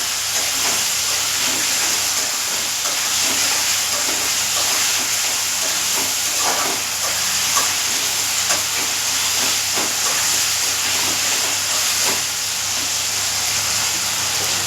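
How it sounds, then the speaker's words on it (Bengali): Thinly sliced potatoes with tomato sizzle in oil in a wok, giving a steady, close, even hiss that runs unbroken, with no voices. "আলুটা বেশ লাল লাল করে ভাজা হবে"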